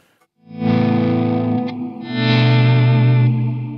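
Guitar run through a Strymon Big Sky reverb pedal on its reflections setting rings out in two sustained, distorted chords with a bright shimmering wash, loud and alone after a brief pause.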